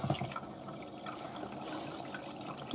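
A Miele W5000WPS Supertronic washing machine rinses at maximum level, water flowing and sloshing softly and steadily inside the drum, faint and continuous, with a sharp louder splash at the very end.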